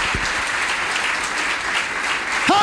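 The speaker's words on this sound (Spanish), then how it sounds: "¿Por qué no le das un aplauso al Señor?" A church congregation claps during a Spanish-language sermon, a dense, steady burst of applause that continues throughout, with a voice starting up at the very end.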